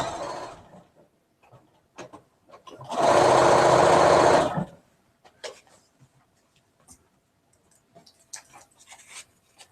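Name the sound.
sewing machine stitching quilt pieces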